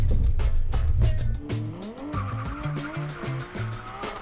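Car skidding during advanced driving training, with loud tyre squeals and engine roar up close, then repeated rising and falling engine revs and squeals as the vehicle maneuvers.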